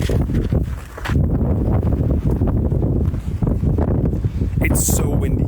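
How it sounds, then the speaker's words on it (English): Strong wind blowing outdoors near a river, buffeting the microphone with a steady, loud roar across the whole clip, with a brief lull near the start. "It's so windy."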